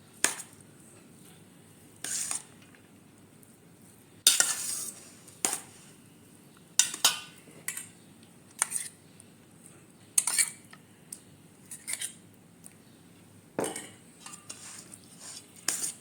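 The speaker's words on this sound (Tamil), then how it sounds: "இப்போ இந்த சாதத்தை கிளறிக்கலாம்" Rice cooked in a pot is stirred with sesame oil, producing scattered metal-spoon scrapes and clinks against the pot, irregular and fairly close, with quiet gaps between strokes and no talking.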